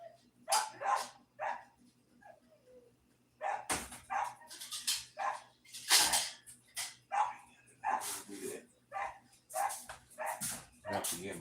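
Several dogs bark outdoors in repeated bursts, some loud and sharp, others yipping or whimpering, spread across the whole stretch with a steady low hum underneath.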